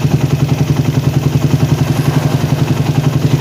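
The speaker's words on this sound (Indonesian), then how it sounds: "Kedengeran ya, RPM-nya naik." A motorcycle engine with a PWK carburetor runs steadily and loudly close by during carburetor tuning. Its even, pulsing idle beat holds through the whole stretch, with no voices.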